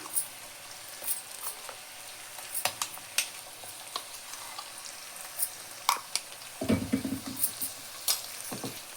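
Chilli powder and masala fry in oil in a pan for a spicy drumstick mutton curry, with a soft, steady sizzle under close scraping and stirring strokes that grow busier toward the end.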